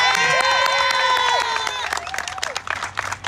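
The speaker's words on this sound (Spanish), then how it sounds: "Vamos a dar un fuerte aplauso al doctor" A crowd at a campaign launch rally applauds the doctor, a local deputy candidate, with cheering and vocal tones over the clapping at first, then sparser claps and crowd noise.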